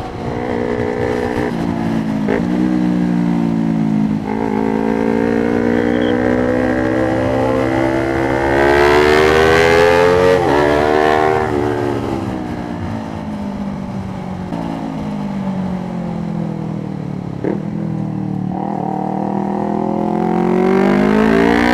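A motorcycle is ridden and revved, its engine note climbing and falling in pitch through repeated throttle pulls. The sound is loud and close for about twenty seconds, with no voices.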